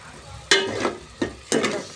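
A spoon stirs curry with salt and a little water in a pan. Three distinct scraping strokes come close and fairly loud over a soft sizzle.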